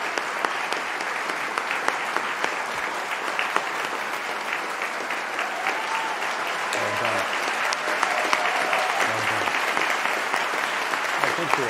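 Sustained applause from an audience at a university convocation ceremony, dense, steady clapping lasting throughout, with faint voices beneath.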